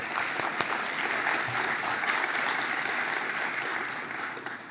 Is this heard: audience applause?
yes